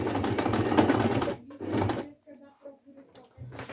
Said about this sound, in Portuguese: Vamos aqui passar uma costurinha para prender.